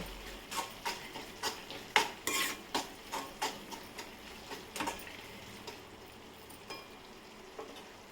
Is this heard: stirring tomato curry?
yes